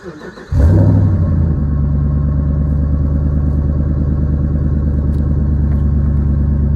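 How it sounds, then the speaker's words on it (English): A 2009 Dodge Ram 1500 truck engine cold-starts with a brief crank, then settles into a loud, steady, rumbling idle that stays constant, with no voices. "You guys over here so you can get the cold start up."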